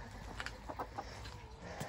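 Chickens cluck softly in a garden tent coop, an Indian-cross hen among them, a few short scattered clucks over a steady background hiss.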